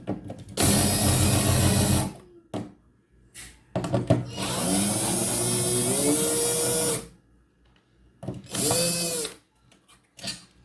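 Power screwdriver backing screws out of a Philco Transglobe B481 radio, three loud close bursts of motor whine with rising pitch, separated by quiet pauses and small clicks, no talk.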